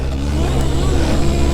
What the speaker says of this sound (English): Got someone ripping a gas Honda 110 in front of us